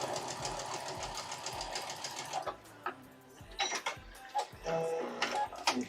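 A sewing machine stitches fabric during a quilting session, running in a steady rapid rhythm for over two seconds, then a few stop-start bursts, close and moderately loud.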